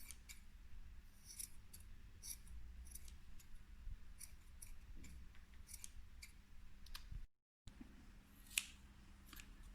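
Scissors snip repeatedly at pom-pom yarn while a craft picture is being made, with sharp, close clicks at an uneven pace over a low steady hum and a brief gap of silence near the end.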